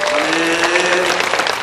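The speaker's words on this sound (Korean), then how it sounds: "한번 뜨겁게 박수 한번 해주시기 바랍니다." A church congregation at Sunday service applauds in a steady, even wash of clapping that fills the room, with a sustained organ or keyboard tone underneath.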